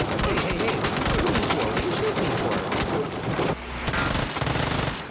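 Rapid gunfire in a game, dense bursts of close shots rattling continuously under a voice, briefly pausing before resuming.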